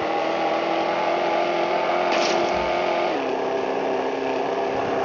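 A car engine in the Extreme Car Driving mobile game hums at a steady high pitch, then drops in tone as it shifts gear, a continuous synthetic drone with no talking.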